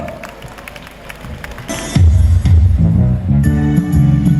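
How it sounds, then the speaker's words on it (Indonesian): Audience applause and cheering for a school extracurricular collaboration performance by SMA Negeri 3 Bandung students at an alumni reunion. It begins after a quieter opening and swells into loud, sustained clapping with musical tones underneath. "tepuk tangan untuk Ekskul SMA Negeri 3 Bandung"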